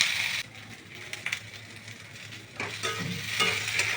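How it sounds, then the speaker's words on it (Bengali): Potatoes, okra, onion and chilli frying together in oil for a prawn dish, a steady hissing sizzle with intermittent scraping stirs, dipping briefly quieter before swelling louder again near the end. "আলু ঢ্যাঁড়স পেঁয়াজ লঙ্কা একসঙ্গে ভেজে নিয়েছি"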